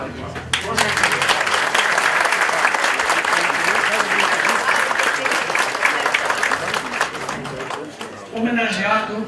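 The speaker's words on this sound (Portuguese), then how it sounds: "eu peço uma salva de palmas" Applause from the audience at a museum inauguration ceremony, dense and sustained clapping that holds steady for about eight seconds before dipping and briefly swelling again at the end.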